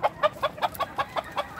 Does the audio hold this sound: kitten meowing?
no